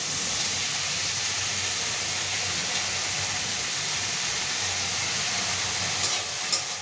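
Onions frying in a pan for a simple home-cooked okra dish give a steady, close sizzling hiss that runs unbroken throughout, with a couple of brief sharper crackles near the end.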